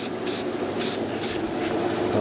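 Krylon gloss black spray paint hisses from an aerosol can onto front brake calipers of a 1966 Ford Thunderbird, four or five short bursts in quick succession over a steady background hum.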